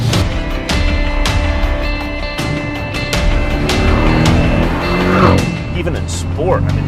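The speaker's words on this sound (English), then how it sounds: "I love the burble on the overrun" Exhaust burble and crackle from a 2018 Porsche 718 GTS on the overrun, heard from inside the car as a loud, continuous engine rumble with tire noise mixed in and someone talking over it.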